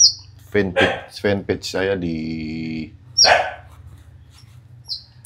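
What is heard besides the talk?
konin songbird chirping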